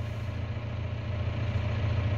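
Tractor engine idling at lowered revs after the power take-off is switched off, a steady low throbbing drone, close and even, with no talk.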